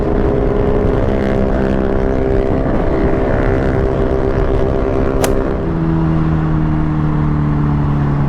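A Yamaha XMAX scooter, likely a 250, revs hard at high speed, its steady engine drone and wind rush loud and close throughout, with the pitch dropping as it eases off near the end.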